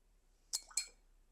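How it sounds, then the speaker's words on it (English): A watercolor paintbrush is rinsed in a glass water jar, giving two light, close clinks about a quarter second apart against near silence. "rinse my brush,"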